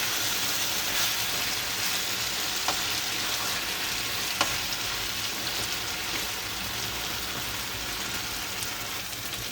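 Fish pieces fry in a pan of hot oil with a steady, dense sizzle and crackle, fairly loud and close, running evenly throughout with a few sharp pops and no voices.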